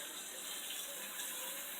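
Warm water pours steadily from a kitchen tap while making homemade wine, a continuous broad rushing splash with no pauses, close and fairly loud.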